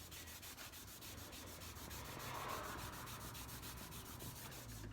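A Scotch-Brite pad scrubs aluminium paste in quick, continuous back-and-forth strokes, a close, steady abrasive rasp with a rhythmic pulse and no talking.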